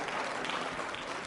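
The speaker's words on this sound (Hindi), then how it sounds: "तालियां जोरों से बजाइए शशि जी के लिए" An audience at a quiz show for trainee state services officers claps steadily, a dense uniform patter of many hands throughout.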